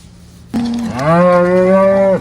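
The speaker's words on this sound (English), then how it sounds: "Fresh calvers and 2 lame cows going down to the shed for the night." A single dairy cow on an Irish family farm lets out a long, loud moo, rising then holding steady for over a second, close by with nothing else around it.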